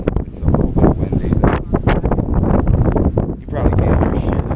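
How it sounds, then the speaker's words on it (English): Wind buffets a microphone outdoors in loud, rough gusts that rise and fall, with gusting noise across the whole stretch. "It's a little bit windy"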